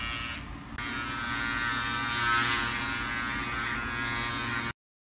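Steady close electric buzzing from a Panasonic wet/dry electric bikini line trimmer razor, a constant motor hum running for several seconds before cutting off abruptly.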